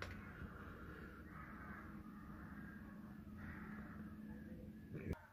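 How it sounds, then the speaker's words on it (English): Crows cawing in the evening around a World War 2 pillbox at about 8 to 9 pm, a steady flock chorus of repeated caws at moderate distance over constant low background rumble, with a sharp knock near the end. "Crows are settling down."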